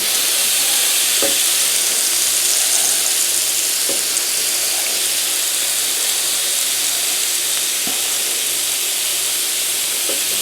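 Bacon strips, about five across, sizzle on a griddle set to 350, a steady close crackling hiss with a few soft pops and a low hum underneath, no voices.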